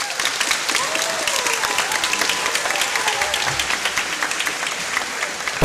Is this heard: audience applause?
yes